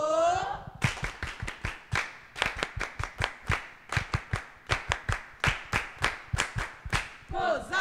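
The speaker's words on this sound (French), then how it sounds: "Un gros applaudissement pour Bozil, John Jeff." Audience applause at an evening show, mostly a few close, loud hands clapping in a clear, fairly regular rhythm, with voices at the start and end.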